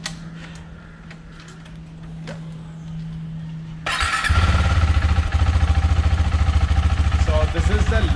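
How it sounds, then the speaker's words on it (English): KTM 390 Adventure motorcycle starting up and then idling at low RPM, the exhaust settling into a close, steady, rapid thumping pulse, with someone talking over it. "So this is the low RPM sound which is there on this bike."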